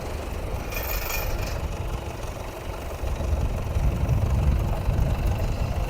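A tractor engine, working a field for ploughing, rumbles in a loud, continuous low drone that grows heavier and stronger partway through.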